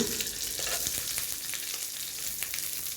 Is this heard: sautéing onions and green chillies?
yes